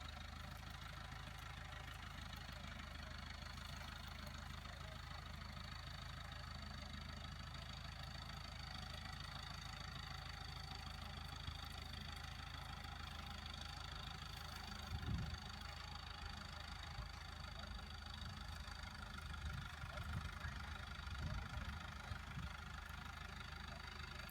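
A vehicle engine idles steadily at a low, constant rumble for the whole stretch during hay bale loading, with no voices and only faint rattles.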